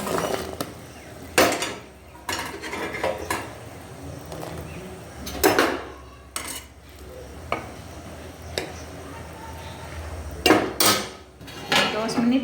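Lid put on a pot of mini gulab jamun in syrup, heard as scattered metallic clinks and knocks of metal cookware, several sharp clanks spaced over twelve seconds amid quiet kitchen noise.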